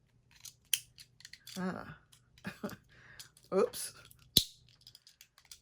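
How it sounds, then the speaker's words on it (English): Scissors snip paper tags out of a book, with several sharp, separate cuts close by amid quiet pauses, while a person speaks briefly between the snips. "I'm probably just going to have to cut them out because I don't want to rip."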